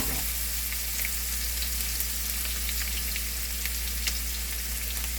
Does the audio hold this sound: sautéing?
yes